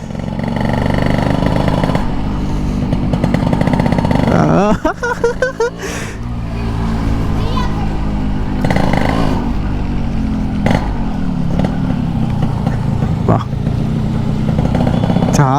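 Close by, the engine of a restored, 30-year-old Yamaha RX100 motorcycle idles and then revs up sharply for a few seconds midway before settling back, with some faint talk in the background.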